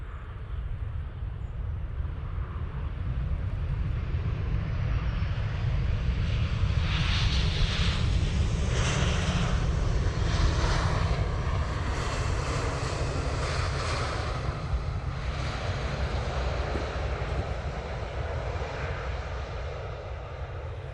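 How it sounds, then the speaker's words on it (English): A Ryanair jet airliner lands at Manchester Airport with a sustained, heavy engine rumble and whooshing roar, fairly close and steady for about twenty seconds, with no talk. "just about get this Ryanair coming in."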